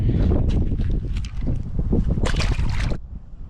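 Gusty wind blowing across the microphone while fishing a canal on a cold-front day, a loud continuous rushing roar with fluttering buffets that ease off at the end.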